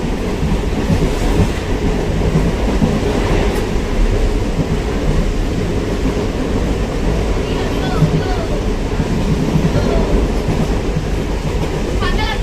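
Inside a moving passenger train, a steady low rumble and rattle of the carriage carries on throughout, with faint clicks of the wheels over the track running beneath it.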